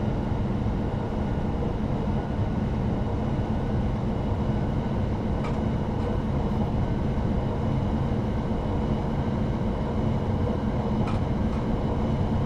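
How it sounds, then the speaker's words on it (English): A train runs steadily in the Train Sim World 3 video game, a continuous low rumble and rolling drone with faint rail clicks, constant and moderately loud with no voices. "Speed up, train, speed up."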